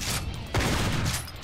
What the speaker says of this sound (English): Ooh, that is a satisfying shotgun.